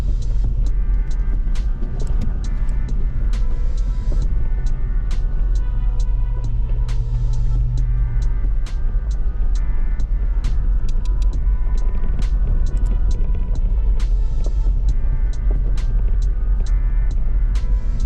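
Overland vehicle engine on a rough mountain pass, a loud continuous rumble with a pitch change partway through as it downshifts into second gear, heard close from inside the cab without talk.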